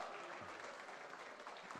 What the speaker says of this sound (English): Big round of applause to her.